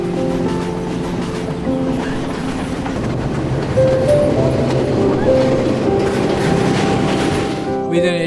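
A train rumbles steadily nearby at Pattipola, Sri Lanka's highest railway station, 1897 m above sea level near Nuwara Eliya, with a droning engine and wheel noise, a tone shifting in pitch partway through.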